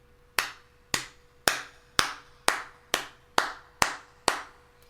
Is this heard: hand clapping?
yes